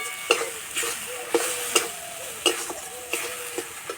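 Ground chilli, turmeric, cumin and coriander with a little water being sautéed in a pan, a soft steady sizzle broken by repeated sharp scrapes and taps of a stirring spoon against the metal, close and fairly quiet.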